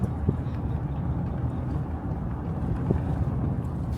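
Steady low rumble and rattling vibration from a car driving over a rough Alabama backroad, constant and fairly loud with occasional knocks, no talking.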